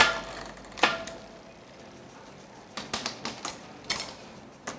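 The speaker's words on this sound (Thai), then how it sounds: "ในกรณีของเกียร์ชิมาโน ชิปเตอร์จะมีทั้งหมด3คลิกนะครับ" A Shimano bicycle front shifter clicks in sharp, close, distinct clicks, one early and then a quick cluster of several near the end, with quiet gaps between.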